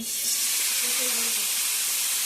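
Pointed gourd (potol) frying in a pan makes a steady, close hissing sizzle that continues unbroken and fairly loud, with no voices over it.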